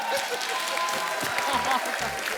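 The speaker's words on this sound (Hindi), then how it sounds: "जोरदार ताली हो जाए" Studio audience clapping on a Hindi TV comedy show, moderately loud steady applause with a voice talking over it.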